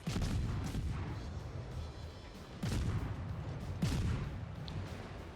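Low-tier naval guns fire in World of Warships, with several dull, distant booms and rumbling blasts spread across the stretch, fairly quiet, with no speech.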